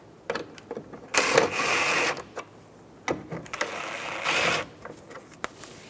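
Two 10mm bolts are snugged down on the passenger-side taillight of a 2014-2019 Toyota Highlander, heard as two close, steady whirring mechanical bursts of about a second each, with light clicks and handling noises between them.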